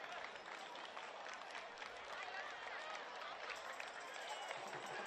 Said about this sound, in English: A round of applause from the Australian fans as she